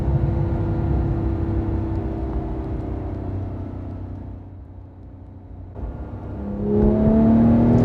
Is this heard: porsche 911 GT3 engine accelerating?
yes